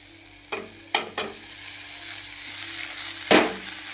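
Dill greens tossed into a hot frying pan with tomatoes for shepu bhaji, giving a few sharp sizzling bursts with short stirring rustles between them, close and fairly loud against a quiet steady background.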